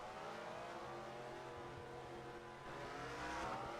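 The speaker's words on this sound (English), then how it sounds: "And P.J. Williams, it looks like he's going to be the first one out of pit road." Race cars leaving pit road at Darlington in a stock car racing video game, a continuous engine drone with rising revs and a brief swell toward the end, fairly quiet and without talk.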